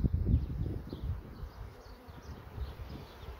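Honey bees in a hive fed with syrup buzz softly and unevenly, with faint handling bumps near the start.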